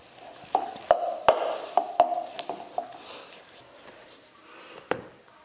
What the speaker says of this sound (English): Then mix this all together again.